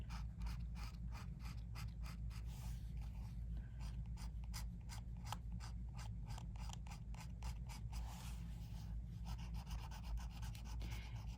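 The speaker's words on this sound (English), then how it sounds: "I can take an X-Acto knife blade and gently scrape the surface" X-Acto knife blade gently scraping the surface of shrink plastic, a rapid series of close, dry scratching strokes repeating steadily over a low constant background hum.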